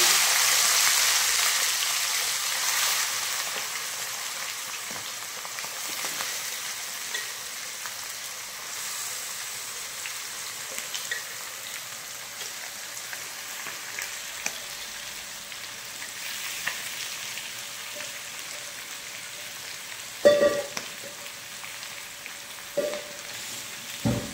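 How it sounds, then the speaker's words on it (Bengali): Marinated chicken frying in a pan: a steady, close hiss of sizzling oil that slowly eases, broken near the end by a few sharp utensil clinks, with no talk. "এবার দিয়ে দিলাম ম্যারিনেশন করা চিকেন।"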